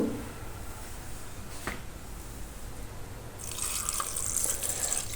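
Water pours into a pan of chana dal cooking with mixed vegetables, a steady running splash rising in the last couple of seconds after quieter kitchen noise.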